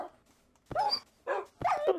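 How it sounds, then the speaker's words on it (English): Three short, sharp dog yelps from the Minecraft Pixelmon video game come in quick succession, fairly close and moderately loud against near silence. "I'm just killing all these dogs"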